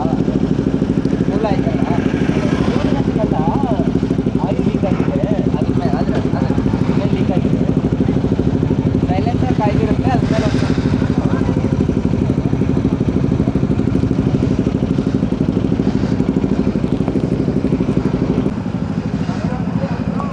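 Motorcycles ridden on a road trip to DD Hills, a continuous loud engine drone with wind rush heard from on the bike, with a voice talking over it.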